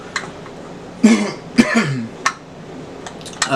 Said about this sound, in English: Raspy throat, coughing.